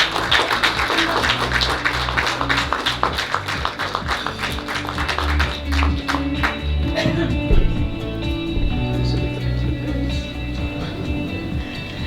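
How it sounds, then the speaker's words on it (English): Audience applause at a multicultural awards gala dinner, a sustained, dense wave of clapping from a large crowd that fades gradually toward the end. "Give her a big round of applause."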